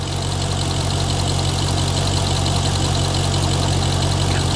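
A Maserati Quattroporte S with straight-piped exhaust idling, a loud, steady, throaty engine rumble with a constant low drone and no talking over it.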